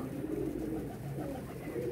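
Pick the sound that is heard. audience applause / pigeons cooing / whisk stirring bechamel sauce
pigeons cooing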